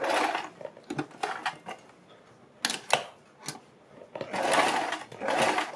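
A sewing machine stitches alongside a strip of buckram, running in short bursts at first and then in longer steady runs, close and fairly loud with no talking.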